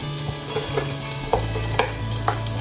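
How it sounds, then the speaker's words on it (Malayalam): Chicken shallow frying in a pan, a steady close sizzle with a few brief stirring scrapes and spatters, no talking. "ഇതിന് ചെറിയൊരു ഷാലോ ഫ്രൈ പോലെ ചെയ്തെടുക്കണം"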